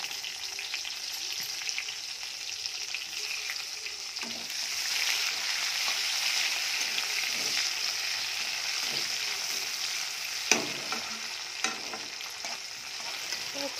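Onion frying in hot oil for a lightly spiced Bengali chicken kosha, a steady loud sizzle with stirring scrapes and a couple of sharp clinks near the end, no talk.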